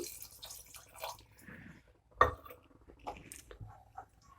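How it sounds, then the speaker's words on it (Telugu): Water goes into a pan of rajma (kidney bean) curry cooked with sour raw mango, a brief wet splash and pour amid soft stirring and clinking close by. "కొద్దిగా వాటర్ వేసుకుందాము"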